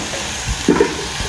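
Onions fry with salt in a pan for pav bhaji, giving a soft, steady sizzle close by, with a couple of brief louder stirring scrapes partway through.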